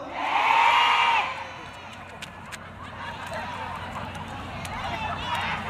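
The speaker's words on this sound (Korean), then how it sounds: "함성을 한번 들어볼까요?" A concert crowd at an outdoor picnic concert lets out a loud, brief roar of cheering in the opening second, which then fades to a low murmur of distant crowd noise.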